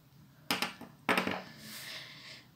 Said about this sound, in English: My nail routine first would be my nail cutter if I need to cut my nails and start again.